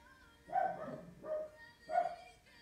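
Several dogs bark three times in an uneven rhythm, the barks fairly close and moderately loud against a quiet indoor background, with no talking.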